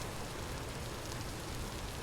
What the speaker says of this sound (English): Raining is very common in this area